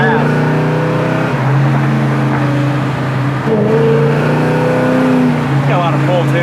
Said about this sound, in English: Sounds damn nice, huh? Yeah, just like a 70 Chevelle should.